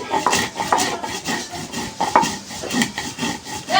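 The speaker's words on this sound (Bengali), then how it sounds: "সরিষাটা জিরাটা একসাথেই বেটে নেব আমি।" Mustard seeds and cumin are ground together on a grinding stone, producing a continuous close rasping, rubbing scrape in a steady back-and-forth rhythm with occasional sharper clacks of stone on stone.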